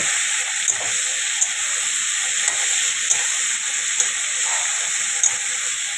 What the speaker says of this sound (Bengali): আজকে করছি সোয়াবিন, মঙ্গলবারে হবে পনির। এটা একটু ফ্রাই করে নিব।